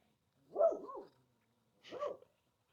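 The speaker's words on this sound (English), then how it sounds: "this dog is barking in the wind" A dog barks twice, two separate clear barks about a second apart, close by and alone against a quiet background.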